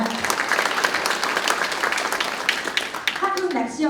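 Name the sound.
audience applause at a panel discussion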